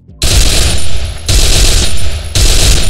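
Rapid bursts of MP40 submachine gun fire in the Free Fire video game, three loud close automatic strings back to back with brief gaps between them.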